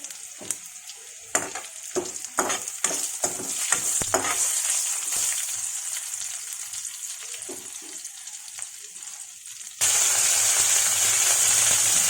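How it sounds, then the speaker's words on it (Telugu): Mustard seeds and dried red chillies sizzle and crackle in hot oil for a tempering for methi rasam, sharp pops clustered at first, then a steady hiss that gets louder near the end. "ఆవాలు చిట్పెట్టుకున్నాక ఎండుమిరపకాయలు,"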